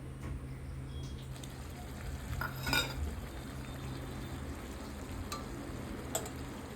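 Pointed gourd curry in a spiced-oil gravy bubbles in a pan with a steady, soft sizzling hiss, broken by a few light stirring scrapes and clinks near the middle and the end.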